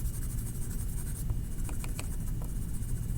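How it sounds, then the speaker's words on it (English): A sharp pencil scratches steady lines on paper during a drawing lesson, a close, continuous scratchy rasp with a few brief strokes standing out, and no voice over it. "My pencil's so sharp it's making lines."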